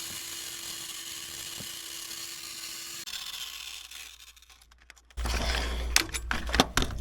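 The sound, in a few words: right angle Dremel grinding exhaust manifold with burrs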